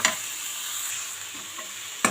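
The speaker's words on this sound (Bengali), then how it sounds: "এখানে সামান্য একটুখানি ঘি দিলাম একদম ছোট্ট দুই চামচ এবার মূলো হালকা করে একটুখানি ভেজে নেব" Radish frying lightly in a small spoonful of ghee, a steady soft sizzle with gentle stirring throughout and a sharper scrape near the end, close and unaccompanied by talk.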